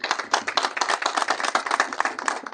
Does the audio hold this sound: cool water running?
no